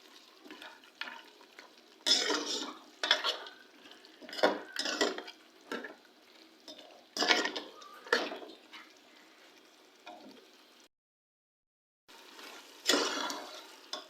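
Potatoes being stirred into a pot of beef aloo gosht curry, with intermittent scraping and clattering bursts from the spoon against the pot, close and moderately loud, separated by short pauses and one full silence.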